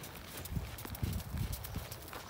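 A horse cantering during a riding lesson, its hoofbeats falling in a steady, even rhythm on soft ground at moderate distance, under a constant wash of background noise.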